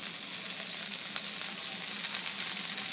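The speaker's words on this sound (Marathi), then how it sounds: "आता आपण हे कांदे भाजून घेऊया" Chopped onions frying in a little oil for a pomfret fish curry, a steady, even sizzle that holds for the whole stretch with no voices over it.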